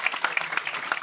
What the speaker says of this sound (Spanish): vamos a empezar a aplaudir